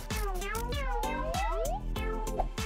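A cat meows repeatedly in short, rising and falling calls, close and clear, over steady background music with sharp rhythmic beats.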